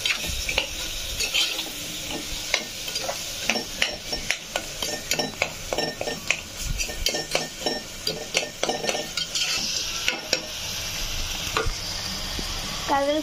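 Ingredients and salt are mixed in a pan with a spoon, producing repeated close scraping and clinking strokes over a continuous light sizzle.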